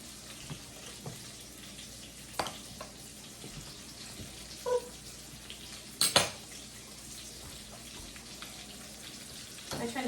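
Butter melting and sizzling in a hot pan for spaghetti and meatballs, a low steady sizzle under scattered clinks of utensils and pans, with a couple of sharper clatters and faint talk in the background.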